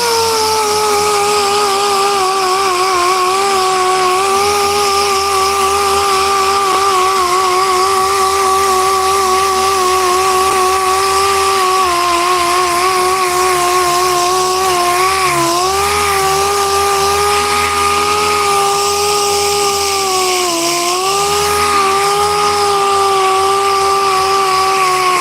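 A small Chinese-made electric sander working a wooden table top, giving a loud continuous whine close by, with slight pitch dips as pressure shifts.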